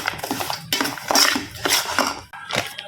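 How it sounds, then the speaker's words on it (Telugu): Dry fruits tipped into a metal cooking pot while making Bombay rava and oats payasam, giving close, bright clinks and rattles of pieces striking metal in several quick bursts with a spoon scraping. "ఇందులోనే నేను డ్రై ఫ్రూట్స్ కూడా వేసేస్తున్నాను."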